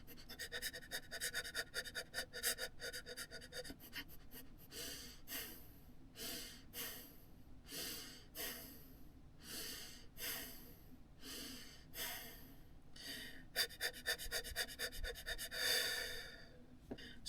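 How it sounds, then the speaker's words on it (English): A singer does a breathing exercise for the voice, with rapid rhythmic panting that gives way to a series of sharp, evenly spaced gasps and then quickens again. The sound is close and soft, with no talking. "You can combine the gasping with the panting to make it more easy for you to relax your body"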